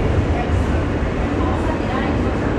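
A New York subway F local train bound for Coney Island–Stillwell Avenue runs near Neptune Avenue, a loud, steady, broadband rumble and roar from inside the car, with speech partly buried beneath it.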